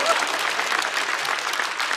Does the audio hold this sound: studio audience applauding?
yes